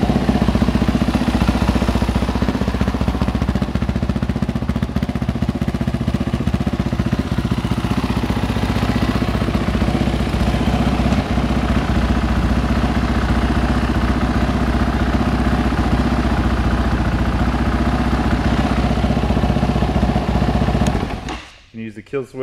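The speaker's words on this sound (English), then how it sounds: "Electric start, push button, just so you can hear it run." A KTM 560 motorcycle engine runs at a steady, loud idle after a push-button electric start, a constant throbbing drone close by, then cuts off abruptly at the end while someone talks over it.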